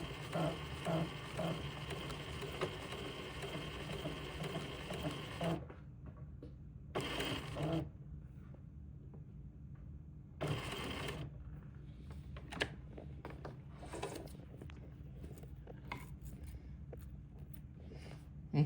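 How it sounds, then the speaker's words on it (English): Domestic sewing machine running a second pass along a French seam on a romper sleeve: a steady mechanical whir for about five seconds, then short separate bursts with quiet gaps between them, heard at close range. "I'm going to sew the second pass of the French seam"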